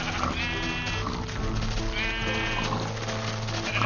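Sheep in the Minecraft video game bleat twice, each a short wavering call, heard clearly over a low background soundtrack.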